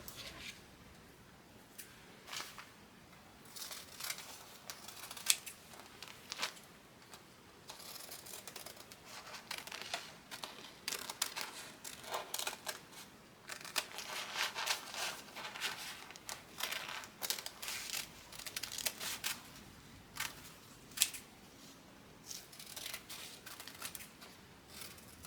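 Scissors snip through a piece of orange fabric for a stained glass quilt wall hanging, a run of quiet, close cuts and rustles with fabric handling in between.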